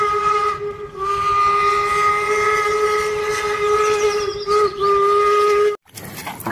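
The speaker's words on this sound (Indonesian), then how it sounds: "kereta api klasik teman-teman," A toy classic locomotive gives a long, steady steam-train whistle that sounds close and loud, holding for several seconds before cutting off abruptly.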